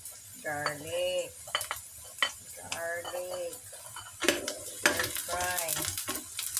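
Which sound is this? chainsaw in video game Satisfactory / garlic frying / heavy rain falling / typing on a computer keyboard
garlic frying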